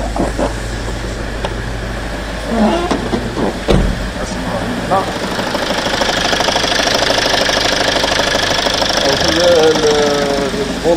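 A Toyota Avensis engine runs close by with a steady idle and an irregular knocking, linked to a clutch problem, while a voice talks over it.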